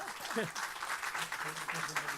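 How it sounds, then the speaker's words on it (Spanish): Applause from an audience at a tribute event in honour of Pilar de Valderrama, a dense, steady wash of clapping with voices and a few vocal sounds mixed through it. "Un fuerte aplauso para ella mientras se compone."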